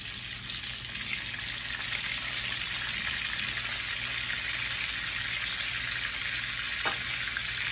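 Bacon-wrapped Twinkies fry in a little oil in a pan, giving a steady, dense sizzle and crackle that stays close and even throughout, with one faint clink near the end.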